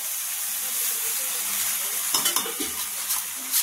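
Masala being stirred and roasted in a pan while making desi pasta, a steady hiss of frying with soft scraping stir strokes that grow more pronounced and clattery toward the end.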